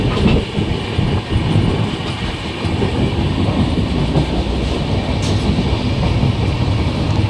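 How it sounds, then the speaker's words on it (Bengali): A passenger train pulls in near Howrah, its loud, steady rumble and rolling rattle filling the whole stretch close by, with no voices. "ট্রেন হাওড়া চলে এসছে, হাওড়ার কাছাকাছি।"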